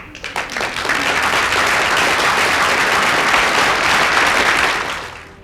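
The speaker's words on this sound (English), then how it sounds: "you may have a little bit of extra help with a little bit of clap track like this" Recorded applause clap track played into a living room concert broadcast, a dense, steady wash of many clapping hands that swells in quickly, holds loud and even, then tapers off.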